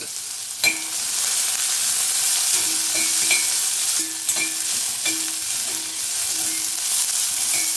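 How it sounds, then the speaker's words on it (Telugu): Ginger garlic paste sizzles steadily in a hot pan for fried rice, a constant close crackle with a few sharp clicks of a spoon stirring against the metal. "పెద్ద స్పూన్తో ఒక 1/2 స్పూన్ వేస్తున్నాను అల్లం వెల్లుల్లి పేస్ట్."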